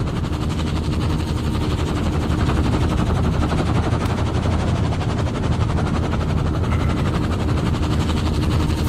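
A helicopter in the game Firewatch, its rotor and engine making a dense, continuous rapid chopping roar, loud and steady throughout without speech.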